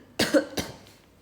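Two sharp, close coughs in quick succession from a young woman, the first harsher with a throaty tail, then quiet room tone.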